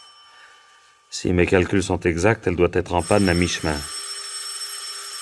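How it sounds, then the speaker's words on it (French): A telephone rings with a steady electronic tone, faint before and after a stretch of loud, close French speech that covers the middle of the clip. "Ne répondez pas. C'est le téléphone."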